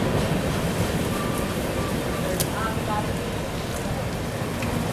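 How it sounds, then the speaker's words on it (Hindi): Extreme heavy rain pours steadily in a continuous broadband wash, heard from inside a Duronto Express train near Lonavala, with the train's low rumble running underneath throughout. "एक्सट्रीम एक्सट्रीम बारिश भाई।"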